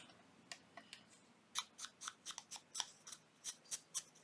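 Scissors snip through material during a craft project, a run of about a dozen crisp, separate cuts at a steady rhythm, close and clear with no talking.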